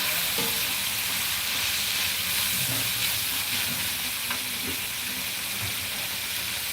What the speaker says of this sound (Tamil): அப்படிங்கிறனால வெங்காயத்தை ட்ரையாக வணக்கிங்க.